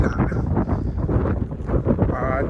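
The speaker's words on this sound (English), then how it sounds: "I'm sorry if you guys hear a lot of wind in the video." Gusty wind buffets the microphone outdoors on a walk near Tavira, Portugal, with a constant low rumble and uneven bursts, loud and close throughout.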